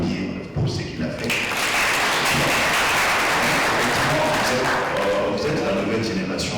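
Sustained applause from a large crowd at a gathering honoring a trophy-winning figure, a dense continuous wash of clapping that swells early and holds loud and steady to the end.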